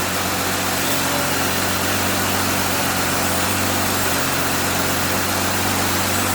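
A Jeep JL engine runs steadily at close range while the steering wheel is turned, giving a loud, constant idling drone with a low hum and broadband mechanical noise that stays even throughout, with no voices.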